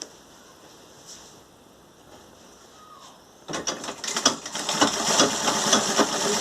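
Sewing machine stitching a fabric door protector, with soft handling noises at first, then a close, busy rattling run of needle strokes that grows louder and keeps going to the end.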